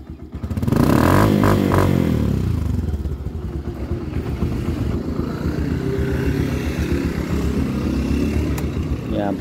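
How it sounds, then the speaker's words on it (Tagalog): A Yamaha YTX motorcycle engine runs close by, a loud, steady rumbling idle that starts with a brief rev and holds for the rest of the stretch, with some mechanical clatter mixed in. "tignan nga natin kung mainit na yung makina para patayin muna natin"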